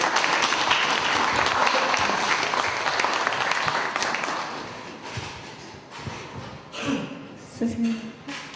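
An audience at a book talk breaks into loud, dense applause that thins out after about five seconds, leaving scattered claps under a few voices.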